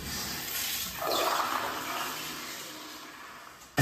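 A water-saving toilet flushes on its reduced liquid-waste setting, a single close rush of water that swells, peaks and tapers off over a few seconds with no talking.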